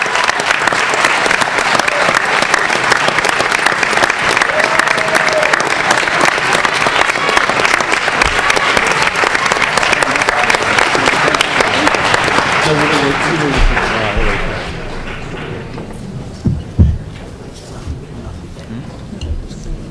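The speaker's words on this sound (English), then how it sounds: "Can we have one more round of applause for these amazing people?" Loud, sustained applause at a school board meeting honoring school staff, dense clapping from a large audience that carries on for about fourteen seconds before thinning out, followed by a few knocks and quieter room sounds.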